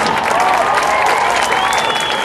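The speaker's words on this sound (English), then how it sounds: "Give him a big round of applause." Large outdoor political rally crowd applauding and cheering at a campaign speech in Grand Junction, a loud sustained roar of clapping with a few whistles rising above it.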